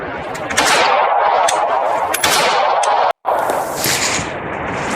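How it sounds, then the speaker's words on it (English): Handgun shots fired with a proper high, tight grip, arms extended straight out, at an outdoor range; loud, closely spaced reports ring out in quick succession with a brief pause near the end and no talking. "now we're going to shoot with a proper grip"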